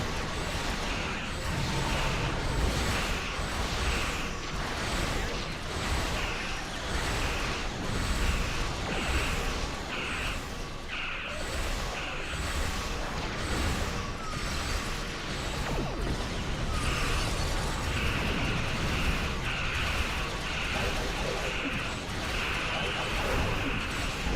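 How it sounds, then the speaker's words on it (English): Space combat in Star Trek Online with a TOS-era Starfleet ship firing torpedoes, bringing a dense, continuous wash of weapon fire, whooshes and blasts that stays loud throughout, with no clear separate hits standing out. "Torpedo."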